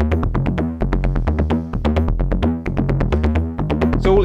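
A Moog Little Phatty analog synth plays a repeating note pattern driven by MIDI from a Jomox beat machine, giving a steady, loud pulsing sequence of punchy bass-heavy notes with no voices over it.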